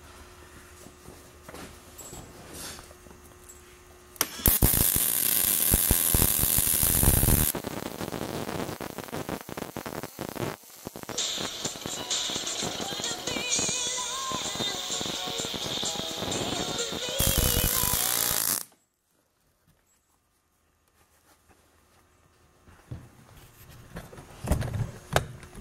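Miller Multimatic 200 MIG welder running 035 wire on a pass across 1/2 inch steel, a loud steady crackling hiss lasting about fourteen seconds before cutting out abruptly, with quieter shop noise before and after.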